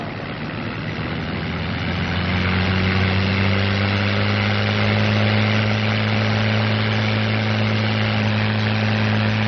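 A North American P-51 Mustang's engine at maximum 3,000 RPM during takeoff, a loud, steady, deep droning roar that swells slightly in the first seconds and then holds constant with no voices.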